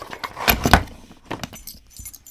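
A replacement ignition lock cylinder and its set of keys from an AMC Eagle rattle and jangle together, a close, loud burst of metallic clinking that fades into lighter scattered jingles.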